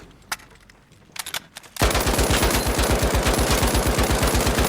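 A Lewis gun firing in a shooting video game: a few scattered shots first, then a loud, sustained rapid-fire burst of evenly spaced heavy reports that continues to the end.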